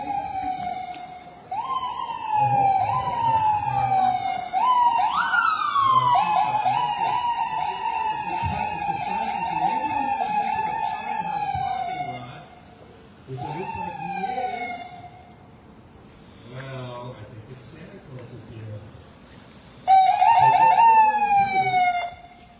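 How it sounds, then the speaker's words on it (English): Emergency vehicle sirens wail and yelp at a volunteer fire department's community Christmas tree lighting, rising and falling loudly in repeated bursts with brief lulls, over faint crowd murmur. "Oh, I do hear sirens."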